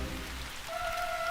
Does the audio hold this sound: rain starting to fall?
yes